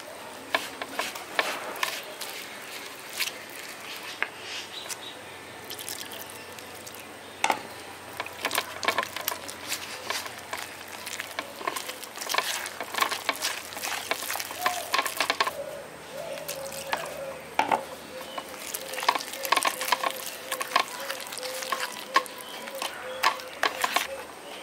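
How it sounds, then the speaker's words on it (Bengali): Gram flour batter being mixed by hand as water is added a little at a time, with a steady run of soft wet stirring, scraping and clicking against the bowl, close and fairly quiet. "এবার অল্প অল্প জল দিয়ে আমি ব্যাটারটা করে নিচ্ছি।"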